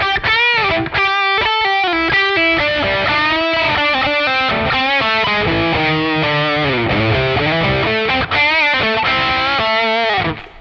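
Electric guitar played through NUX Cerberus distortion in a combined lead setting, a continuous saturated run of sustained notes and bends played loud and close, with no talking.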